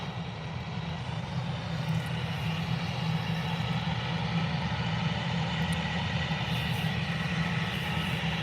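EasyJet airliner jet engines at Birmingham Airport, a steady broad roar with a low hum, moderately distant and unchanging throughout, with no talk.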